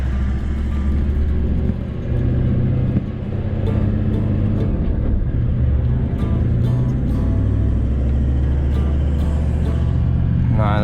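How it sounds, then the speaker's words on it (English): A four-wheel drive car runs along a sandy beach at Bremer Bay, Australia, with tyres not deflated: a loud, steady low rumble from inside the cabin, with a few faint knocks. "Go for a drive down the beach."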